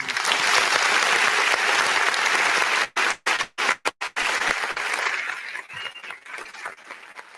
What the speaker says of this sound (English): now give yourselves a round of applause